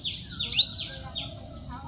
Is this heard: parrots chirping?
yes